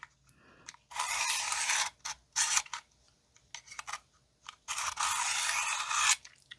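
A knife blade is drawn along the stone of a Wicked Edge WE20 guided sharpener in short, rough scraping strokes, close and fairly quiet, separated by brief pauses and small clicks, with no speech.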